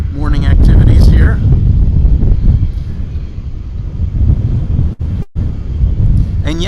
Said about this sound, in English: that is wind you hear in the background